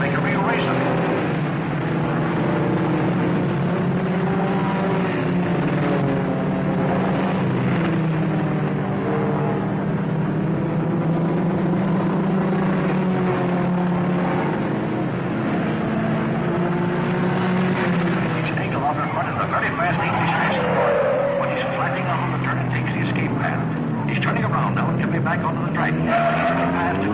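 Engine roar of 1954 race cars on a track, a continuous loud, droning mix of several engines with shifting pitch, heard under a steady commentator's voice throughout.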